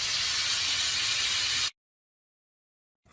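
A pressure cooker releases steam in a loud, steady, bright hiss lasting under two seconds, then cuts off abruptly into silence.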